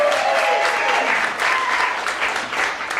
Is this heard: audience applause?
yes